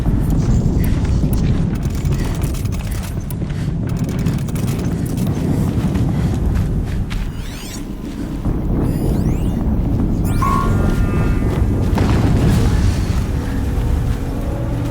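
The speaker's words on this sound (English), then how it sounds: "Another explosion." Loud, continuous rumbling blasts from explosions in the video game Horizon Zero Dawn, a dense low roar with wind-like noise that dips briefly near the middle before swelling again, with no talk.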